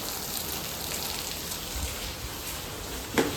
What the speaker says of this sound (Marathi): बघा पाऊस किती करतो बाहेर